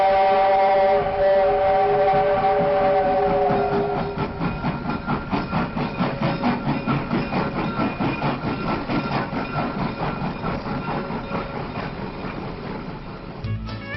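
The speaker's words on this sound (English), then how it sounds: "we see a southbound train crossing Lay's Flats and entering Warsaw" A 1930s steam train rumbles past on a line crossing flats near Warsaw, with rhythmic chuffing and clattering wheels, preceded by a long whistle blast, loud and fairly close.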